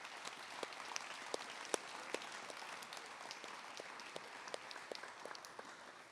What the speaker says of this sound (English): let's have a big round of applause for those two